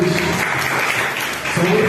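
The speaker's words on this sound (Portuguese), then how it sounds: "Aplauda o Senhor." Church congregation applauding during a Sunday celebration service, a steady dense wash of clapping that holds for about two seconds, with a voice faintly audible beneath it.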